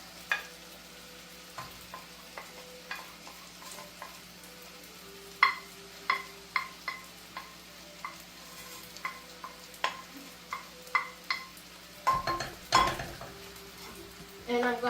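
Shrimp lo mein pasta and vegetable mix stir-fried in a pan, with a steady low sizzle under repeated clinks and scrapes of a utensil against the pan, close and fairly quiet.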